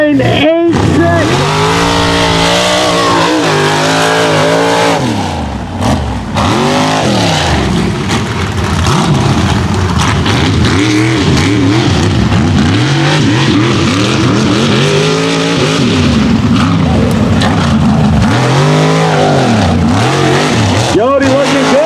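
Mega truck racing on a muddy West Virginia course, with loud, close engines revving and surging continuously as the truck powers through corners, accompanied by excited announcer commentary over the roar.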